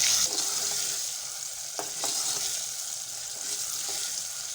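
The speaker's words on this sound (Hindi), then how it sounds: "अब इसमें हम टमाटर शामिल करेंगे। इसे 2 मिनट तक पकाएंगे ताकि ये टमाटर अच्छी तरह गल जाएं।" Tomatoes cooking in a pan for an egg and onion curry, giving a steady soft frying hiss with a few faint stirring clicks, fairly quiet and continuous, with no talking.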